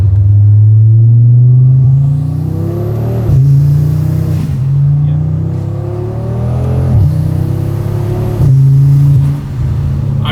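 An Audi RS3 fitted with a large aftermarket air intake revs loudly up close with a deep, steady engine drone. The pitch climbs in several repeated rises and then drops back between revs, and no one talks.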